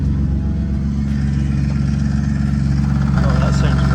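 A BMW E36 engine runs rough at idle, a steady loud low drone with an uneven pulsing throb, heard alone and close.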